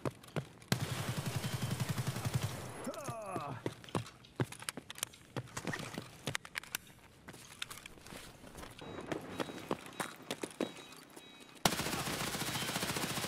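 Gunfire in a shooter video game: rapid bursts of automatic shots and scattered single cracks, fairly dense and continuous, with a sustained burst toward the end.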